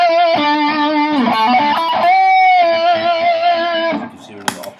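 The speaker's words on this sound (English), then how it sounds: "if I've got distortion all the way up. It's still very thin, but it does give a nice lead sound." An electric guitar plays a sustained, singing lead line through the distortion of a Donner pedal board with the boost engaged. The tone is loud and held, with a few note changes, and ends in a brief pick scrape.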